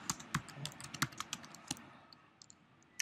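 Quick bursts of typing on a computer keyboard, crisp close key clicks in an irregular run that thins out toward the end, with no talking.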